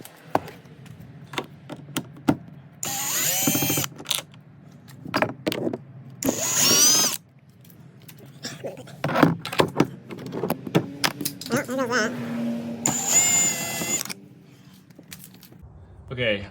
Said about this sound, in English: So now time to remove all the screws and get moving.